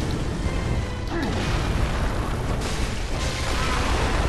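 A deep, rumbling explosion in the dark gothic action game Bloodborne, a sustained heavy low boom with crackling debris that fills the whole clip at a steady loud level, with no voices over it.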